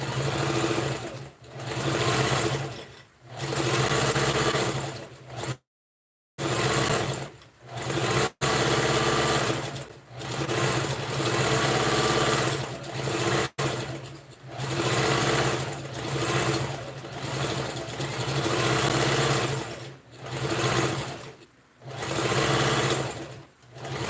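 A sewing machine runs in bursts with a fast, close, loud mechanical whir as it stitches a ruffled organza sleeve without backstitching, with short pauses and one brief full stop between runs.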